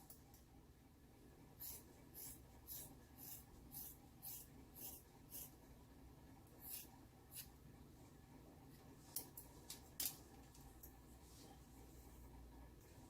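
Scissors trimming a 14-inch deep wave bob wig to length, a steady run of quiet, evenly spaced snips, then a few more scattered cuts, faint and close with no talking.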